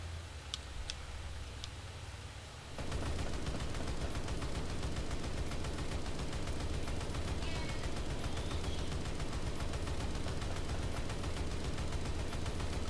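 Ship guns firing in Stormworks, a sudden onset of dense, continuous rapid gunfire that rattles on steadily and loudly after a few quieter isolated clicks at the start.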